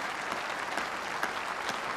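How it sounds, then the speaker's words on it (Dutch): Steady applause from a crowd at a Liberation Day remembrance gathering, a continuous even patter of many hands clapping. "Ja, en dat is toch wel een derde applaus"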